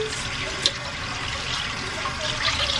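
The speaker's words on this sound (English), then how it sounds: "Let me wash my hands" Hands are washed under a running kitchen tap, a steady close hiss of water with brief splashes and a sharper splatter near the start, continuing evenly without talk.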